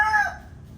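A young gamefowl stag crows once, a short rising call that tails off quickly, close and fairly loud with no talk over it.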